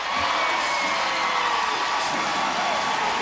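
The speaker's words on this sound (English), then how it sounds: "That gets the crowd involved." A large arena crowd at a WNBA All-Star basketball game at the Verizon Center in Washington, D.C. cheers and shouts loudly, a steady dense roar with whoops that holds through the moment.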